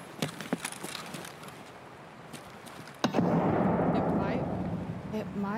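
A grenade blast in an Escape from Tarkov–style shooter, a sudden loud boom bursting in midway and rumbling on after scattered earlier gunshots, with players talking over it.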